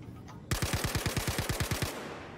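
Rapid automatic gunfire in the Star Citizen video game, a burst of about a dozen sharp, loud, evenly spaced shots lasting over a second, then a short decaying tail.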